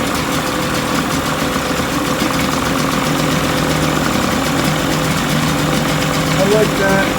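A 20 hp Mercury outboard engine idles steadily and close by, a constant mid-pitched drone with a faint knocking rhythm, running on without pause for the whole stretch.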